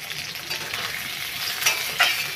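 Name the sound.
salted onions frying and being stirred in a pan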